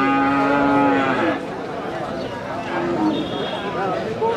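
A cow at a busy cattle market lets out a loud, close moo at the start, then market chatter and a murmuring crowd carry on underneath.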